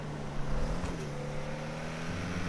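A Jaguar sports car in GTA Online revs and accelerates, its engine a steady, fairly quiet droning tone that swells slightly early on and then holds even.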